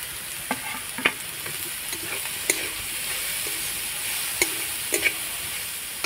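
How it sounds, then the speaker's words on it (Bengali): Grated cauliflower fries in a hot kadai with chili, salt and turmeric: a steady, close sizzle with sharp spatula scrapes and clicks at irregular intervals as it is stirred. "এবার আমি নাড়াচাড়া করে ফুলকপিগুলোকে ভেজে নেব।"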